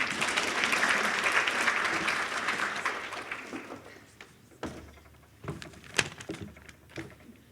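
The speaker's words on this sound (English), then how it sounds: "Keep the applause going." Audience applause at a women's business awards breakfast as an honoree walks to the stage, dense clapping loud at first, then thinning to scattered claps and fading over the last few seconds.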